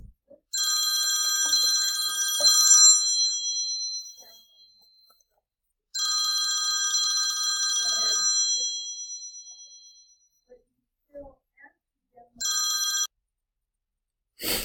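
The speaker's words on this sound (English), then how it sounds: "I'm sure you heard my phone calling." A mobile phone rings with a bright electronic ringtone in three separate bursts, a long one, another long one and a brief one, with quiet gaps between and a small click at the end.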